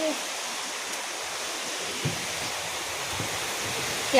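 Monsoon rain begins falling outside open windows, a steady, even hiss of dense drops heard from indoors with no break.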